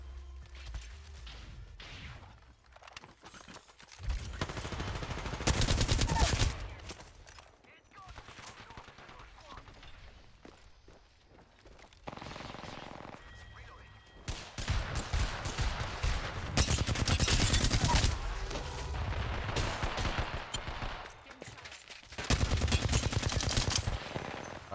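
Apex Legends gunfire plays in loud, repeated automatic bursts with pauses between them, crashing impacts mixed in, and a voice speaks intermittently over the combat.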